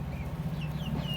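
Young chicks among a flock cluck and peep softly on a farm, with a few thin chirps over a steady low hum.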